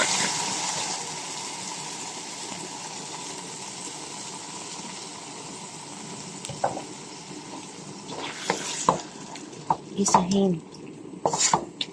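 Corned beef, 260 grams, sizzles as it is sautéed in a pan with softened aromatics, a steady hiss throughout, punctuated later by scraping and clinks of a utensil against the pan.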